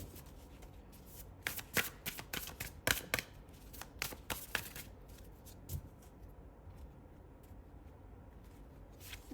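Tarot and oracle cards are shuffled by hand in quick riffling bursts, crisp papery flutters and taps close by, coming in clusters and then thinning out near the end.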